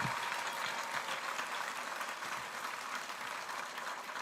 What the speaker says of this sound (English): let us ensure that we give our leader a rousing round of applause for him here today